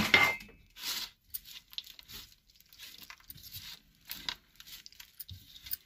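A spoon stirs tempering into paper-thin flattened rice (avalakki) in a bowl, giving close, dry crinkling rustles and light scrapes in short, irregular bursts separated by near-silence.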